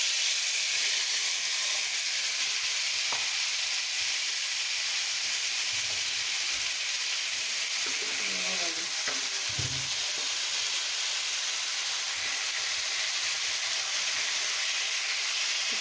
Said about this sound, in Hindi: अब हमने जो चिकन को मैरिनेट किया था, हम वो चिकन लेते हैं और अपने पैन में डाल देते हैं।